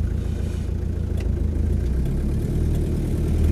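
Land Rover 110 with a 2.5 diesel engine pulling away, a steady low rumbling drone that builds slightly as it moves off, close and continuous with no talking.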